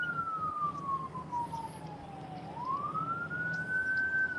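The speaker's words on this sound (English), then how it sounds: "Yeah, I'm tired of hearing sirens, man." A wailing siren sweeps down in pitch and then rises again, steady and fairly loud, with low traffic rumble underneath.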